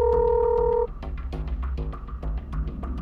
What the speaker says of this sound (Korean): 취재진은 해당 변호사에게 사실을 확인하기 위해 전화를 걸어보았습니다